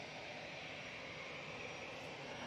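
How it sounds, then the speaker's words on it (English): A Finnair Airbus A319 arriving from Helsinki at Manchester Airport gives a steady, distant, faint broadband jet engine roar with no change over the brief stretch. "Finnair has just arrived from Helsinki, using their little 319."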